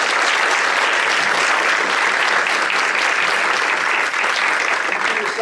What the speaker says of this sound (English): give our Rachel and the panel and Noah one last big applause for being here